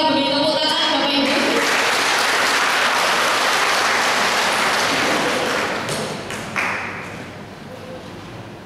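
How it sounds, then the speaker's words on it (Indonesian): A crowd at a parish Scripture study session in a church hall claps steadily in a dense, even wash, then thins and fades over the last couple of seconds. "Mari kita beri tepuk tangan Bapak Ibu."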